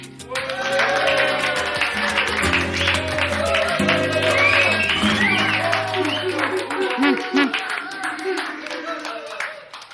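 Studio audience applause on a 1997 French-language TV show, a steady dense clatter of many hands over sustained music, with voices mixed in throughout.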